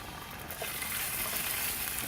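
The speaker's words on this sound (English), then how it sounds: "You want to sort of dissolve them in the oil with the garlic" Three anchovies and two cloves of minced garlic fry gently in olive oil, making a continuous fine sizzling hiss at an even level throughout, close and moderately loud, with no speech.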